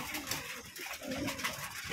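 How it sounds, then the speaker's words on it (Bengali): Pigeons, mostly wild birds with some Parvin and Giribaz, coo softly and continuously at a farm in Keshabpur, Jessore, in a short close burst. "এখানে 100 জনের মতো কবুতর আছে। তো এর ভিতরে সবগুলাই বেশিরভাগ হচ্ছে আপনার বুনো কবুতর"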